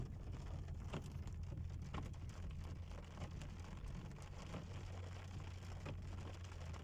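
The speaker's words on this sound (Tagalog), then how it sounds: "Lakas ng ulan." Heavy rain comes through as a dense, steady hiss at low level, with occasional louder drops or patters and a low rumble beneath, and no one speaking.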